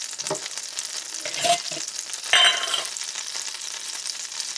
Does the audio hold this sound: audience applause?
no